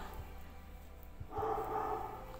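A dog barks outdoors at a distance, its muffled yaps rising to a sustained, moderately loud stretch midway through against a low indoor background.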